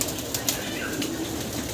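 Pigeons at a large pigeon farm make soft, quick flutters of flapping wings over a faint rustling background, with a few brief bursts standing out.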